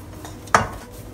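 A single clunk of a utensil against a cooking pot while folding thick Teochew taro yam paste, one short knock over quiet background.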